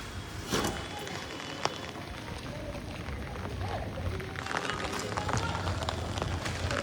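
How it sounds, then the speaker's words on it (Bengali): Heavy rain falls steadily in a dense, even hiss that grows slightly louder, with a few sharper taps and faint background sounds. "এখন বেশ জোরে বৃষ্টি পড়ছে"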